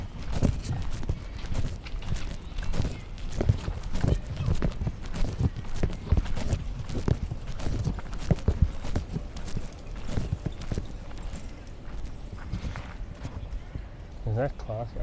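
Steady clip-clopping of horses' hooves on pavement near a station continues nearby while people talk over it amid general street bustle.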